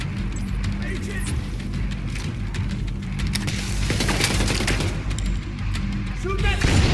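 Gunfire and booming shots in The Division 2 fill the stretch in loud, overlapping bursts, with a voice speaking over the combat.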